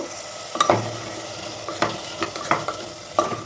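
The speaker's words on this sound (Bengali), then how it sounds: "যেটা করবো, সবজিগুলোকে একটু নেড়ে নেব," Vegetables being stirred and fried in a cooker, with a steady sizzle broken by several sharp scraping strokes of the spatula spaced about a second apart, close and clear with no talk.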